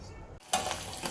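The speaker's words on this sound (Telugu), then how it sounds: "పెట్టుకున్న మెంతికూరను కూడా వేసుకొని మనం మంచిగా వేయించుకోవాలి" Fenugreek leaves fry and are stirred in a pan, with a soft sizzle that jumps louder after a brief scraping pause, close and continuous.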